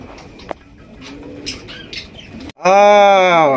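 A pigeon coos loudly and close up in a deep, rolling call after a few moments of quieter bird chirps and faint background sounds.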